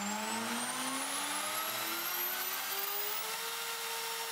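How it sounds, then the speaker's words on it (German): A 900 W milling/router motor with internal speed control spinning up, a steady whine that climbs smoothly in pitch as it accelerates, running alone and fairly quiet. "Letzter Kandidat ist der 900 w Motor, der wie der kleine Motor über eine interne Drehzahlregelung verfügt"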